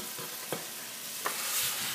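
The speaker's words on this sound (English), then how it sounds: "We're searing. So what I put in here is some olive oil, some garlic, and some shallots, okay?" Roast searing in a pan of olive oil with garlic and shallots, a steady close sizzle with a couple of soft stirring knocks, heard alone.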